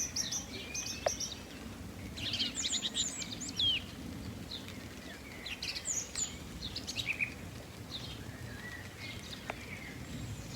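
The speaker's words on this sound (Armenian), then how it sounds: "որ այդ երկով թշնակի ձայները լսեք" A thrush sings bright whistled phrases in short bursts separated by pauses, moderately close, over a soft steady outdoor background with no talking.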